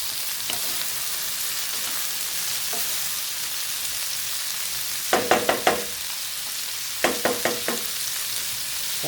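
Food sizzles steadily in a pan after syrup is added, with a constant frying hiss. Two quick bursts of spoon-on-pan clatter, each three or four scrapes, break through near the middle and end.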